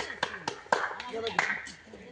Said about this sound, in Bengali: হাততালি একটা জোরে